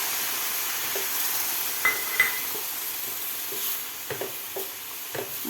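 Rava and coconut modak mixture with saffron milk being stirred in a pan, soft scraping strokes and scattered light clinks of a spoon against the metal over a faint sizzle, fairly quiet and intermittent.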